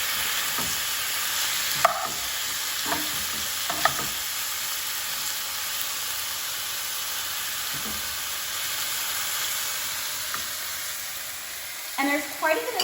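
Beef and vegetables sizzle steadily in a single pan, the hot frying hiss running throughout while a spatula scrapes and stirs in occasional bursts, with a voice heard faintly at moments.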